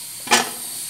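Pressure cooker with beans cooking on a home stove gives one short, sharp burst of steam hiss, lasting about a tenth of a second, before settling back to a quiet background hiss.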